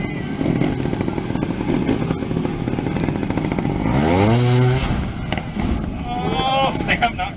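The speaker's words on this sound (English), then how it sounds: "making sure that that motor's running clean" At a motorcycle show, an engine revs hard to burn off excess fuel from the crankcase, a loud close buzzing roar that climbs and falls, with voices talking underneath.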